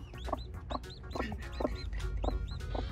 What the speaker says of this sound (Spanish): se escucha como un pollito, pero no lo veo muy bien